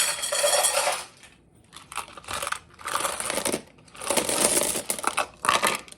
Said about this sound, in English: I'm gonna place the glass beads around the outside.